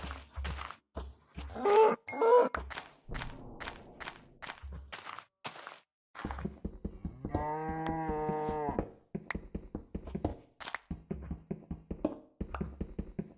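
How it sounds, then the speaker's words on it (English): A distorted, retro-textured cow in modded Minecraft lets out one long, wavering moo, loud and close, with scattered blocky footsteps and game clicks before and after. "That's a fucked up cow noise."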